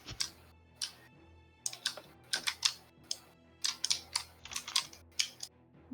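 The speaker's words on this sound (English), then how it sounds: "Oh no, someone's typing, I think." Someone typing on a computer keyboard nearby, bursts of sharp clicking keystrokes in irregular clusters separated by brief pauses, fairly faint but distinct, with no talking over it.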